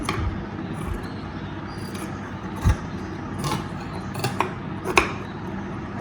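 Lining fabric for a top is cut close by, giving a handful of sharp, irregular snips and clicks over a low background hum, with no talking.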